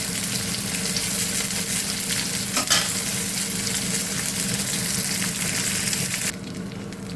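Curry paste sizzles and crackles steadily in a hot pan with occasional stirring. The sound is close and continuous, then drops slightly near the end.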